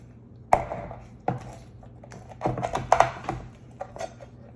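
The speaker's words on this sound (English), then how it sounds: "can use a scissor to just cut off all the gills if you want instead of pulling them" Scissors snip through the gills of a lobster on a kitchen counter, a few sharp close cuts spaced irregularly, with light handling clatter between them.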